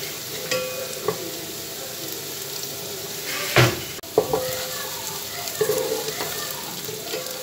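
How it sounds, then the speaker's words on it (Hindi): Onions fry in oil for rice, kept to a light colour, with a continuous sizzle under brisk stirring, scraping and a few clinks of a spoon against the pot. "प्याज को हम डार्क ब्राउन नहीं करेंगे"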